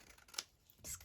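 Scissors cutting through book pages for a junk journal: two short, close snips about half a second apart, quiet and with no speech.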